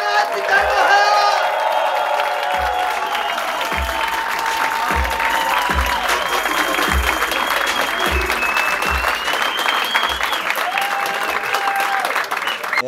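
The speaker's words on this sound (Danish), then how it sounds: "Mine damer og herrer, begynd at klappe, begynd at huj og hej." At a stand-up comedy show, the crowd claps and whoops loudly, with a few shouted cheers, and rhythmic thumping beats run under the applause throughout.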